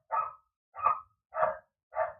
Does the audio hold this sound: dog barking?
yes